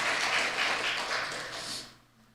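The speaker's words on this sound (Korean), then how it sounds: "이런 데는 박수 크게 쳐야 되는 거예요" A church congregation claps during a revival seminar, a dense patter of many hands in a reverberant hall that fades out after about two seconds.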